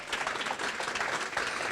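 Audience applause at an awards event honoring women leaders, a dense steady wash of clapping from a crowd, loud and continuous without any voices over it.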